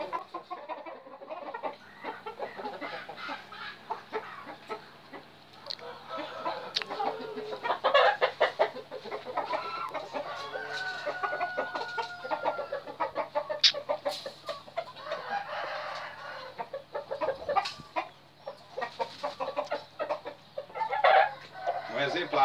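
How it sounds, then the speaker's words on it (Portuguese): A modern rooster of a finer, taller fighting-bird line crowing and clucking at close range, with someone talking over much of it. "Galo moderno"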